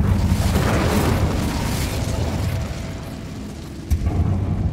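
The Incendio fire spell is cast in the Hogwarts Legacy video game, producing a loud, sustained fiery roar and booming rush that fades slightly, then a sharper burst near the end.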